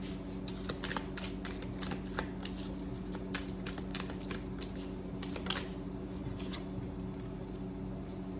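Tarot cards are shuffled and drawn by hand, producing a quick run of soft crisp riffling flicks and card slaps, close and quiet, with no speech.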